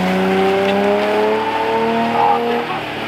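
A Koenigsegg Agera engine drones loud and steady with a rising, slightly wavering pitch as its wheels spin in snow, holding near one level for a few seconds before easing off.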